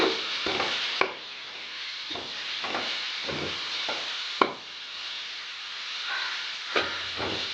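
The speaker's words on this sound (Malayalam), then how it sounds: "അപ്പോൾ തക്കാളി ചേർത്ത് കൊടുക്കുകയാണ്. അതിനുശേഷം നന്നായിട്ട് ഇളക്കി കൊടുക്കുക." Chopped tomato being stirred into a chicken roast in a hot pan, giving a soft hiss of steam and sizzle broken by irregular scraping strokes and a few sharp clacks of the spoon against the pan, quiet and close.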